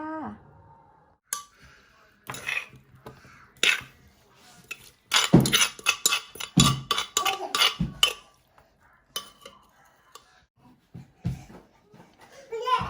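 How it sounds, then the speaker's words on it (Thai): Pounded Thai long-bean salad, made without tomato, is tipped onto a plate in a home kitchen with a run of clinks, scrapes and knocks of utensil on dish. Someone talks between and over the clatter. "เทใส่จานเลยจ้า"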